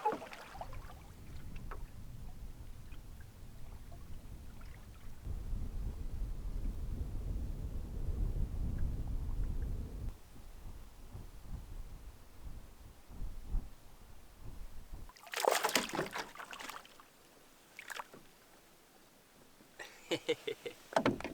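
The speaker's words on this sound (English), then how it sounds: "now I'm back on my lonesome, paddling across the beautiful Diamond Lake" Canoe paddling across Diamond Lake on a solo trip: a steady low wash of water and hull noise that swells in the middle, followed by several sharp knocks and splashes near the end, with no talking.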